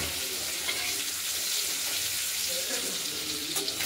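New potatoes fry in hot oil with whole spice tempering and turmeric in a pan, a steady hiss running throughout with faint scraping beneath, no talk over it.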